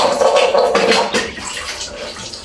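Dishes being washed under a running kitchen tap, a steady close splash of flowing water with brief clatters as items are handled, with no talking.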